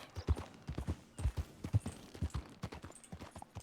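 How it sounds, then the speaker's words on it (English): Quiet, rhythmic clip-clop of horse hooves in a video game, a steady walking gait of several hoofbeats, fairly close with no talking. "there's a lot of horses here."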